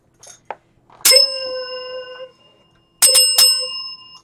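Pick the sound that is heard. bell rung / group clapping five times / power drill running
bell rung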